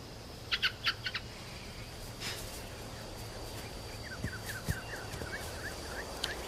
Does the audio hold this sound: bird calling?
yes